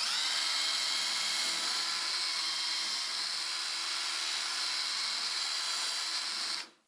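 Power drill elongating holes in a wooden breadboard end on a TV stand build: a continuous high-pitched whine held steady for several seconds, then cutting off abruptly.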